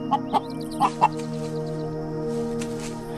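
A hen clucks close by, four short sharp clucks in quick succession against a steady low hum, followed by quieter ambient sound.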